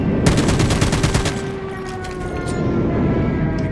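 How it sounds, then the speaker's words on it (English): A Call of Duty sentry gun fires a fast, loud rattling burst of about a second, followed by fainter, scattered gunfire in the background. "Sentry gun deployed."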